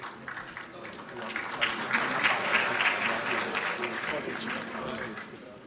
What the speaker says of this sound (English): Oh, please, let's give them a round of applause.